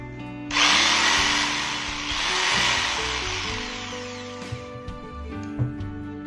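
A Makita 4327M jigsaw switched to its top speed setting, a loud whining buzz starting abruptly after a half-second and running continuously close by, with slight surges in pitch and a few faint clicks.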